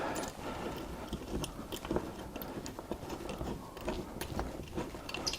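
A screw is tightened into a Corsair T3 Rush gaming chair, giving soft irregular ratcheting clicks and gritty turning noises, close and quiet, with no speech.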